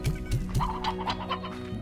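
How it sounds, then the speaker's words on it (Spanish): Chickens clucking in the Slime Rancher video game, several short close clucks in quick succession over a low steady hum. "Conseguimos gallos."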